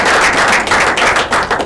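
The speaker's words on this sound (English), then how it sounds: "So if we can give them a round of applause" At a high school board of education meeting, the audience gives a short, loud burst of clapping for a girls' team, with close, crisp hand claps coming in uneven waves.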